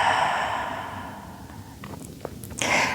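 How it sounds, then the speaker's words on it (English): A big, slow exhale during a yoga session, a long soft airy breath out heard close and alone, trailing off into a few faint rustles and small movement sounds. "And a big breath out"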